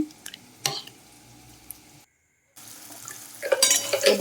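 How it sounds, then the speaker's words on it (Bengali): White mustard powder, ground at home in a mixer, is stirred with water into a paste while cooking a rohu fish and hog plum dish. Close wet stirring and sloshing come in bursts, broken by a short silence and growing busier near the end. "জল দিয়ে একটা পেস্ট বানিয়ে নিচ্ছি"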